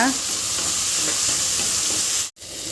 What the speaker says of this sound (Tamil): தக்காளியையும் நல்லா வதக்கிக்கோங்க